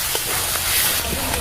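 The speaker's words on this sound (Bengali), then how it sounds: "হলুদ গুঁড়োটা দিয়ে দিয়ে দিদি জল দিচ্ছি।" Water poured into hot spice masala of turmeric, chilli powder, tomato and garlic in a pan bursts into a loud, steady hissing sizzle that fills the brief moment without pause.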